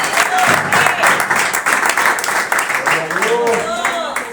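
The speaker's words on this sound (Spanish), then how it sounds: "Alguien tiene que dar un aplauso a esta palabra." A Spanish-language church congregation applauds during a sermon, lively clapping from many hands that rolls on for several seconds while voices call out over it near the end.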